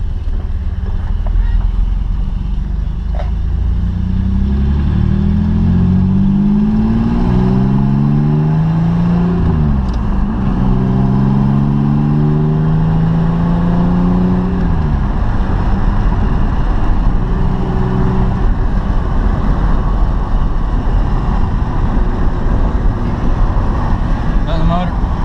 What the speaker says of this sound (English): Sounds like a little tick, maybe an exhaust leak or something.